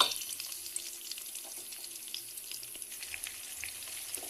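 Garlic and onion sauté in a pan with a quiet, steady sizzle and light crackles, close by and unbroken, with a faint tap-water hiss underneath and no voices.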